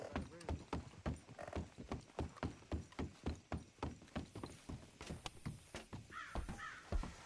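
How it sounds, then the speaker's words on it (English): Horse hooves clip-clop in a steady, fairly close rhythm in Red Dead Redemption 2, with crow-like caws and a light whinny over the gait. "There's my horse."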